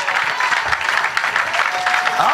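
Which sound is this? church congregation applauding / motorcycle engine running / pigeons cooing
church congregation applauding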